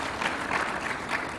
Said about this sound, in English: A round of applause to Rebecca.